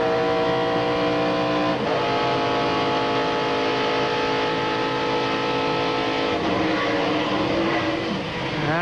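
A NASCAR Busch Series race car at Watkins Glen in 1997 is heard from the in-car microphone, its engine screaming loud and close with rising pitch through upshifts and a couple of brief lifts and pulls.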